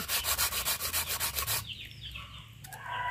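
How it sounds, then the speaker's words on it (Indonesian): Sandpaper scrubs the freshly sawn end of a PVC pipe in quick, regular back-and-forth strokes, loud and close, then stops, leaving faint rustling and light handling noises. "ini kita amplas dulu biar hilang untuk dari kotoran dari sisa potongan dari gergaji tadi"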